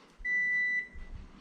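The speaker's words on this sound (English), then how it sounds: "the timer just went off" A home oven timer gives a single steady electronic beep lasting about half a second, clear and close, followed by faint kitchen rustling.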